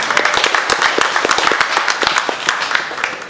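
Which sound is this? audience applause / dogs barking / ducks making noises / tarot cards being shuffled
audience applause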